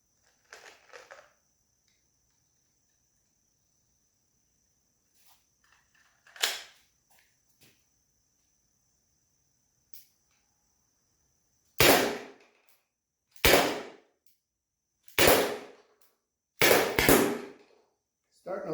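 A Byrna SD launcher fires balls inside a garage, four sharp loud pops spaced a second or two apart near the end, after a quieter stretch with faint clicks and a single earlier shot.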